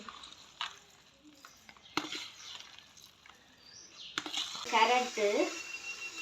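Noodles with egg and vegetables being stirred in a pan, quiet scraping and stirring with a few light utensil knocks, growing busier near the end.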